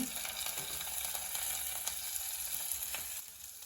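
Cassava pieces sizzle and fry steadily in hot ghee in a pan for payasam, a dense, close crackling hiss that continues evenly with faint stirring.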